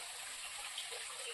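Water pours steadily over rocks at a new dam in Gujarat, a loud, continuous rushing wash that stays even throughout, with no voices.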